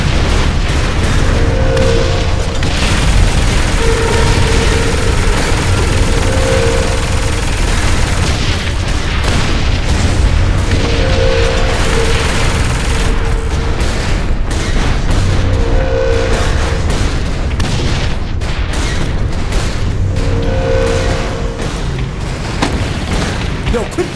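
Bombs going off in Saints Row 4: a loud, continuous barrage of booming blasts and gunfire-like bursts over a dense game soundtrack, with voices talking over the chaos.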